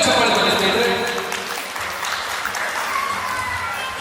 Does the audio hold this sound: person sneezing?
no